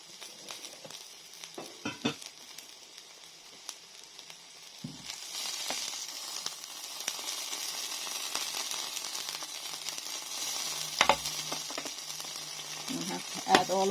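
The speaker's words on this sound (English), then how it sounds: "we're going to add some of the kale to the pot" Kale added to a hot pot in a mac and cheese dish, first a few clunks and stirring taps, then a steady close sizzle that rises and holds, with occasional utensil knocks.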